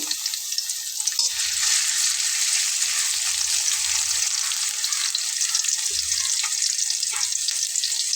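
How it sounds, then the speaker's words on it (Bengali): Chopped onion fries in hot oil for a tempering, giving a steady bright sizzle with soft periodic scrapes of stirring, close and continuous without any talk. "দিয়ে নিচ্ছি পেঁয়াজ কুচি করে নেওয়া ফোরন দেওয়ার জন্য"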